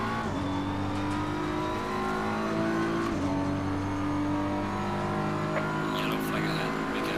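A race car engine screaming through a push lap in Assetto Corsa Competizione, held at a high, steady whine that drops sharply with a gear change and then climbs again, loud and continuous.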